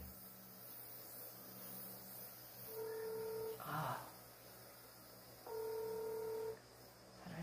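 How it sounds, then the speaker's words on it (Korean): A telephone is dialed, with two clear tone bursts about three seconds apart over a quiet, faint background hum and a brief noisy rustle between them. "빨리 승태한테 전화해봐요"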